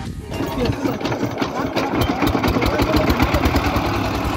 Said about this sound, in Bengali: এদিকে আমাদের মাঝি তার নৌকার ইঞ্জিন স্টার্ট দিল।